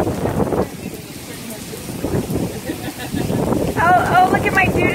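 Heavy rain and wind batter the surroundings in a storm, a loud, continuous roar of downpour and gusts with people talking over it.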